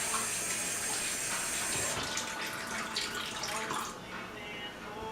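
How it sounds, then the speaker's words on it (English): Water from a kitchen tap runs steadily over fingers at a sink while cooking ground beef for taco salad. The flow is continuous and fairly close, with a slight change in splashing partway through. "Let's wash our fingers."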